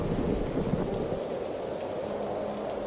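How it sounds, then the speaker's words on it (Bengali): Heavy storm rain pours down steadily while deep thunder rumbles loudly at the start, then fades into a continuous dense downpour. "হঠাৎই আকাশের সেই ঘন কালো মেঘ থেমে ঝমঝম করে বৃষ্টি নামল। তার সাথেই শুরু হলো বজ্রপাত।"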